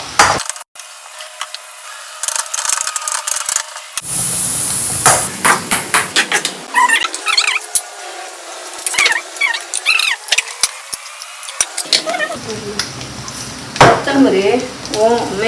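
Onions frying in ghee and oil in a pan on a gas stove for Udupi-style chicken curry make a steady sizzle, with clattering metal scrapes and knocks over it throughout.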